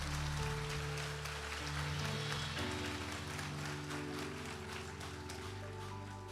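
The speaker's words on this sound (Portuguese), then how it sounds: "Você pode aplaudir o Senhor por essa palavra?" A church congregation applauds during a sermon with a dense, even patter of many hands over sustained keyboard chords that shift partway through.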